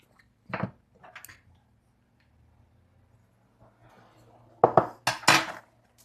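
A utensil beats eggs, salt and sugar in a bowl for a peach pie, sending out short bursts of clinking against the dish. Quiet gaps fall between the bursts, and no one speaks.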